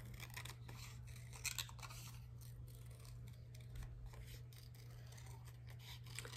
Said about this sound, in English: I'm going to cut out my egg, and I'm gonna keep my blue line that I drew